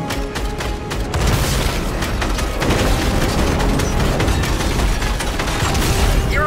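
Crystals exploding in Fortnite, a dense, continuous barrage of loud booms and bursts layered over one another with sharp cracks throughout.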